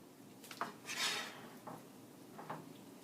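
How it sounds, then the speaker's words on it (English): A big metal ladle scoops lasagna sauce from a pot, giving a few soft clinks and scrapes against the pot over a few seconds. "I'm going to use this big ladle."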